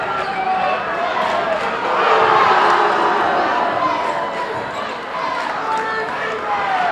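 Basketball fans in a gym at a boys' regional championship game yell back and forth in a loud, sustained crowd roar that swells midway and then eases.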